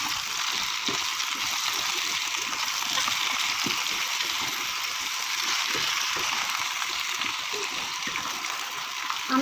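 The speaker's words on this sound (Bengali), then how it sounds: "এবার আমগুলো দিয়ে দেবো।" Mango pieces for a sweet mango pickle tip into hot mustard oil already seasoned with five-spice and dried red chillies, giving a loud, continuous hissing sizzle that stays steady for several seconds, close up.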